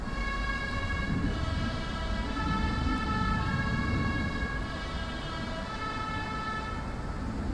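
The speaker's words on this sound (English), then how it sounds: "If you hear the horn of the postal car and you are on the road, you have to move immediately on the side." A Swiss postal bus sounds its multi-tone warning horn on a mountain road near Schwarzwaldalp, a sustained, bright chord held steadily over engine rumble.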